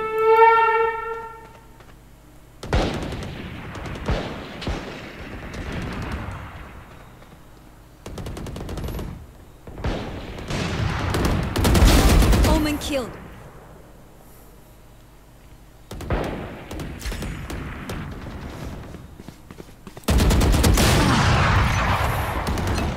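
Gunfire in a shooter video game: rapid bursts of automatic fire and single shots come in several loud, close clusters separated by short quieter gaps, alone without talk.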